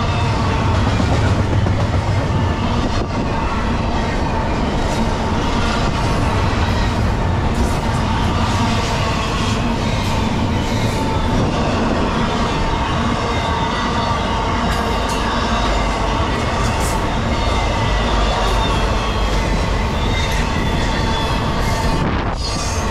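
Norfolk Southern 22X freight train with a BNSF ES44DC locomotive rolling past in New Jersey, a loud continuous roar of wheels and railcars that stays steady and close for the whole span.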